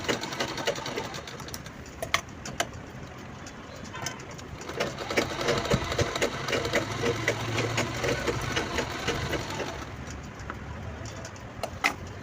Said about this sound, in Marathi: मी याला तिरप्या रेषा मारून क्विल्टिंग करून घेत आहे.